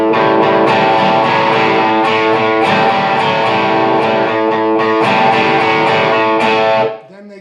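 Electric guitar playing the one-measure tag riff from a song, loud and distorted with ringing chords and little palm muting, strumming steadily before cutting off near the end.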